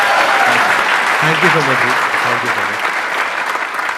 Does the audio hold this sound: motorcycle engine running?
no